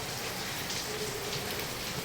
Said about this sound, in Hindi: ये कितनी तेज बारिश पड़ रही है।